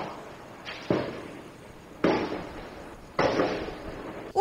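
Three sharp, loud gunshots crack about a second apart, each ringing out with a short echoing decay, heard from inside a bathroom during an attack in Morro do Romão.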